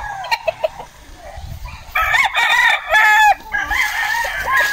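Fighting cocks bred for derby crow and cluck close by, several loud overlapping crows following a few sharp clucks.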